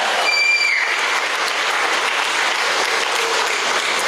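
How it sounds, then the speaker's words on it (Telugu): Sustained applause from an audience at a Vestige training meeting, dense clapping filling the whole stretch at steady loudness with no voices over it. "సార్కు సార్ క్లాప్స్ ఇవ్వండి."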